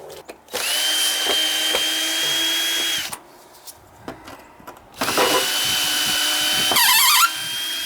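A power drill drives screws during an oil burner power-venter repair, whirring in two long high-pitched bursts separated by a pause filled with faint handling noises.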